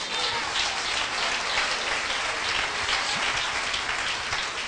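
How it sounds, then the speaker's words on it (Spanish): Church congregation applauding the Lord, a steady wash of many hands clapping at a moderate, fairly distant level without a break. "denle un aplauso al Señor"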